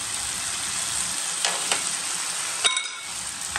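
Fried pasta chips are tossed with masala, producing a soft rustling sizzle broken by a few quick clinks and scrapes of the spoon against the pan.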